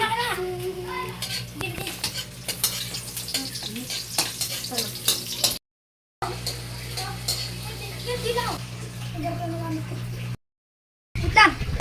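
Adobong sitaw with eggplant and soy sauce cooking in a pan, with close sizzling, stirring, and clinks of utensils against cookware, while people talk over it and two short breaks of silence interrupt it.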